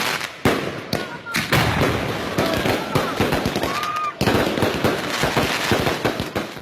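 Fireworks crackle and pop above a city during an election-night celebration, dense bursts and rapid firecracker-like reports filling the air, loud and continuous with a couple of short gaps, with crowd noise and voices mixed in.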